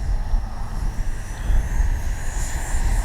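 An Arrows RC F-15 model jet with twin 64mm electric ducted fans roars loudly and steadily during takeoff, a dense close whoosh with rising whine and no speech.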